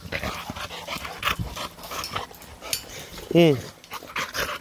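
A dog growls and pants while tugging on a spring pole outdoors, with rough, breathy bursts up close and a short whine-like rise, as a voice briefly speaks over it.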